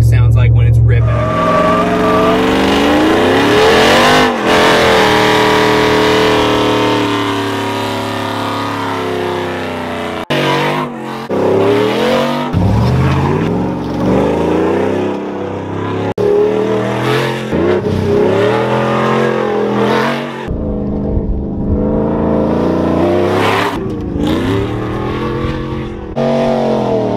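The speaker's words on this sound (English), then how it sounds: "really shows what the truck sounds like when it's ripping" A 5.3 Chevrolet Silverado pickup with a stage 2 cam, X-pipe and long-tube headers revs hard again and again, its loud, raspy exhaust climbing and dropping in repeated sweeps for nearly half a minute.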